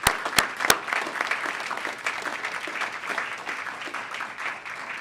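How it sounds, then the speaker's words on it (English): Applause at a MARTA transit board meeting for the negotiating team, opening with a few sharp close claps before settling into a sustained, even patter of many hands, fairly faint and slowly fading. "I think we all owe all of them a round of applause"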